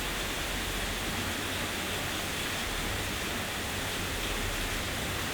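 Heavy rain during an online call comes through as a steady, dense hiss that fills the whole stretch evenly and loudly, with no voices over it.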